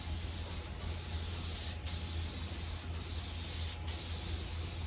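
Steady close hiss of varnish spraying onto an exterior door, one continuous spray with a few tiny dips where the nozzle pauses between passes.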